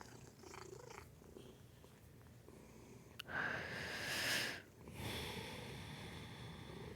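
A domestic cat purring on a person's lap indoors, a soft continuous rumble with a louder burst of movement and rustling midway, close and quiet, with no talk.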